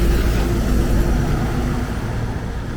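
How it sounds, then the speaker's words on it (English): Broadband low rumble of heavy truck traffic on a noisy ring road bypassing Siem Reap, steady and loud without clear individual passes. "I would say don't live close to it, it's very noisy. There are so many trucks that use this road."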